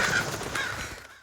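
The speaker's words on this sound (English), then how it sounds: "in the second movie when we see a flock of birds take off" Crows caw harshly as a flock of birds lifts off in a film scene, a burst of overlapping calls and rustling that tails away into silence within about a second.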